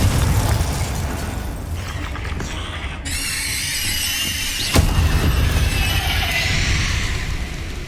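A Confringo fire spell in Hogwarts Legacy detonates with a sharp blast about midway, set against game sound effects, a shrill squealing tone and rumbling background.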